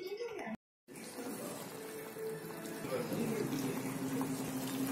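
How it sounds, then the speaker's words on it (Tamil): Sambar kuzhambu with drumstick pieces boils in a pot with a steady, close bubbling hiss that grows slightly louder as it goes on. "முருங்கைக்காய் வேகிற வரைக்கும் குழம்பு கொதிக்கட்டும்."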